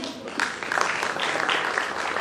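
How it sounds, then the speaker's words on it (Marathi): Clapping from a crowd at a lifetime achievement award ceremony rises and continues steadily, mixed with voices and some cheering over the applause. "सर्वांनी टाळ्या वाजवून"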